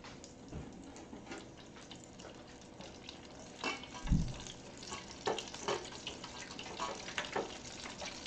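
Rattlesnake bites deep frying in a fryer, a steady crackling bubble of oil running throughout with a few sharper pops and splashes near the middle, close and moderately loud with no talk.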